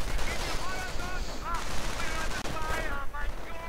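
Dense gunfire from a World War II strategy video game battle, rapid machine-gun bursts and rifle shots layered over constant battle noise while a commentator talks throughout.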